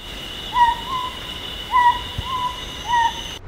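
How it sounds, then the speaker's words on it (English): Principe scops owl calling at nightfall, three rising screeching notes paired in duet-like phrases at roughly one-second spacing over a steady high insect-like drone, fairly close and clear. "Pairs of the Principe scops owl often scream like this in duet at nightfall."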